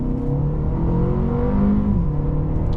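2025 Mercedes CLA 250 accelerates hard from inside the cabin, its engine note climbing through the revs in a smooth, continuous pull.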